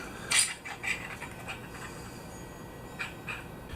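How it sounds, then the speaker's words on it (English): A set screw is adjusted on a Kyberlight lightsaber hilt. Quiet metallic ticks and small clicks come in a few scattered bursts, faint and close, with no talk. "Need to adjust this set screw in a little right here."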